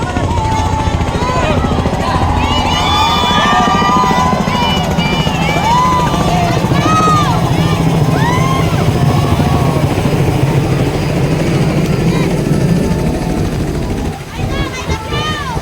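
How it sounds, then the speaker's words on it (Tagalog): A helicopter lands at an outdoor citizens' movement event in Dagupan, Pangasinan, its loud continuous rotor and engine roar filling the air while a crowd murmurs and people talk nearby. "mayroon pong bumaba sa helicopter"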